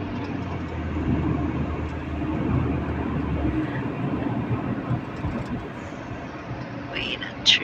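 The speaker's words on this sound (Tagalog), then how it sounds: "hindi ko akalain na habang nabibideo ako, may dumaan na MRT" An MRT train rumbles past near a shopping centre with a low, continuous roar that swells and then recedes, while voices can be heard faintly in the background.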